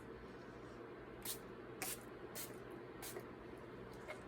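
A few short, soft hissing sprays of makeup setting spray at irregular intervals over a quiet background hum.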